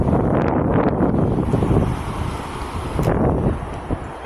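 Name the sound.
strong wind blowing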